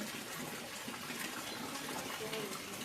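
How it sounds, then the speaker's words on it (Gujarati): Heavy rain pours down in a dense, steady hiss, soft and continuous like water rushing, with no voices. "ક્યારે વરસાદ શરૂ થઈ ગયો છે મસ્ત મજાનો"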